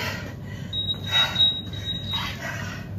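A single thin, high electronic beep holds for about a second and a half over low background noise and faint rustling.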